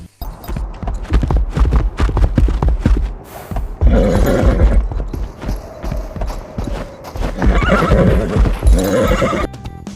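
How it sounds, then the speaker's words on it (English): A horse in a mobile survival video game neighs loudly and repeatedly over a busy clatter of hoofbeats, close and prominent, with no speech. "we can ride a horse"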